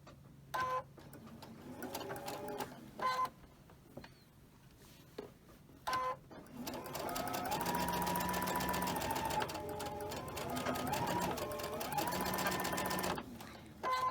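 Quilt block being stitched on a sewing machine: a few short bursts of stitching early on, then a long steady run of rapid mechanical stitching lasting several seconds, fairly close and clear.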